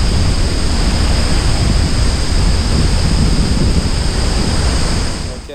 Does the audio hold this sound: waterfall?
yes